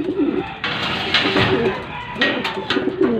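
Racing pigeon breeders coo in a loft, repeated soft throaty coos close by with rustling and background noise between calls, no talking.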